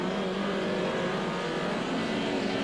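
1990 Super Touring cars, a BMW among them, in the pit lane: a steady, loud engine drone fills the whole stretch without pauses or speech.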